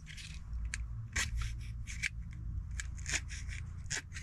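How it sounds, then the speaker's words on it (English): Scissors snip repeatedly through a strip of material, with crisp, close cuts in an uneven rhythm over a steady low hum. "So I'm gonna take it out and put a strip right like this. Okay, and I'm gonna cut this one side."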